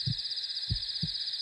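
Heartbeat sound effect for an owl documentary about prey: three soft, deep thumps, a quick pair and then a single beat, under a steady high whine.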